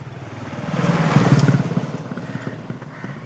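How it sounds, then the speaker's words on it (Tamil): A motorcycle engine rumbles over a phone call, rising to a peak and fading again within a few seconds, fairly loud and alone with no talk. "உங்க பைக் சவுண்ட் கேக்குது"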